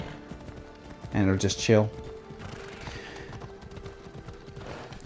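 A horse in Assassin's Creed Odyssey trots along a road, hooves clip-clopping softly under a close narrating voice, with a brief whinny standing out near the start.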